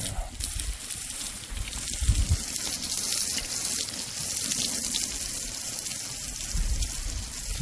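Cold water from a hose streams and splashes steadily over a horse's healing shoulder cut, a continuous close gushing that runs throughout.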